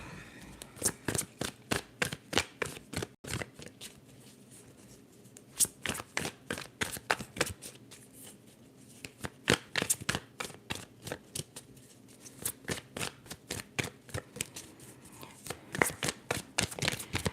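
Tarot cards are shuffled over and over in close, crisp bursts of riffling flicks, a long rhythmic run of soft papery snaps with brief pauses between rounds.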